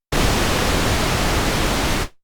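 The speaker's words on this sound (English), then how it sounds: "and pink noise." Pink noise generated by a CorOS mono synth, a dense, steady rushing hiss with more low-end weight than pure static, sustained for about two seconds then cut off.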